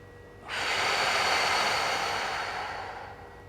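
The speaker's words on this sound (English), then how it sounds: "Just keep breathing." A long, steady breath, loud and close, sustained for about three seconds and then fading slowly, taken while a posture position is held during an ankle, foot and lower leg exercise routine.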